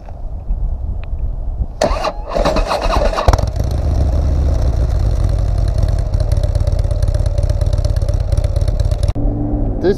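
A motorcycle with a stock exhaust on a dyno cranks and fires, catching after a brief clattering start, then settles into a loud, steady rumbling run close by until it cuts near the end.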